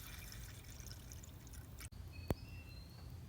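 Coolant pouring into the radiator of a Honda CBR650F motorcycle, a faint steady trickle of liquid close by with a brief click and a small splash near the end, no talk.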